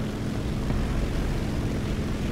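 Propeller aircraft engine of an enemy fighter plane in the War Thunder video game, a loud steady droning roar held close and constant throughout, with no talk over it.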